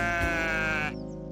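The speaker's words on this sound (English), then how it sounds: "Baaing sheep." A single sheep lets out a loud, close, wavering bleat lasting about a second, heard alone.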